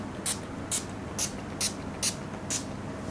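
A NYX Dewy Finish Setting Spray is spritzed six times in close, evenly spaced bursts of sharp misting hiss, each short and crisp over a quiet background.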